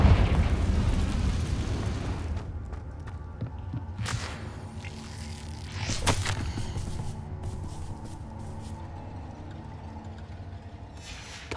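A Confringo fire-spell blast in Hogwarts Legacy: a heavy explosive boom that rumbles and decays, followed by sharper cracking bursts near four and six seconds, then a lingering low tail.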